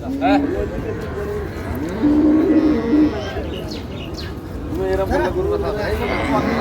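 Improved-breed dairy cows and calves at a busy cattle market in Raniganj, Dinajpur, giving several drawn-out moos over constant nearby talk and crowd noise.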